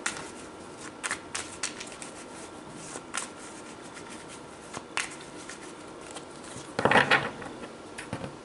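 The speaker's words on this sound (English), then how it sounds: "let's pull 2 more cards for you" Tarot cards are shuffled and drawn with soft papery riffles and light slaps, several short bursts spaced across the stretch and one fuller flurry near the end, close by against a quiet room with no talking.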